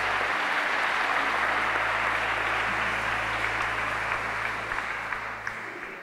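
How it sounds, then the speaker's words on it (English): Sustained applause from a large audience, loud and steady throughout, tapering slightly toward the end. "So can you give yourselves a round of applause"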